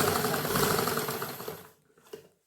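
A sewing machine stitching a kurta patti: a fast, steady mechanical rattling whir running loud and close for under two seconds, then stopping, followed by a couple of faint clicks and near quiet.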